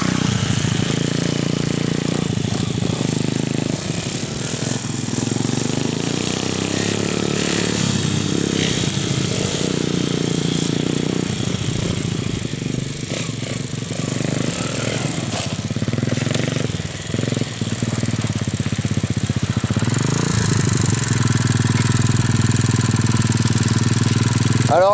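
A motorcycle engine runs close by without pause, a loud, rough, steady drone that holds for nearly twenty-five seconds with slight changes in tone toward the end.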